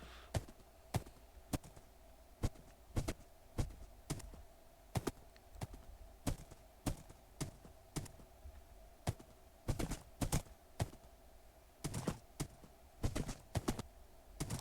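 Horse hooves in Minecraft clopping in a steady, fairly quiet rhythm of sharp taps, sometimes doubled or clustered, continuing for several seconds over a faint low hum.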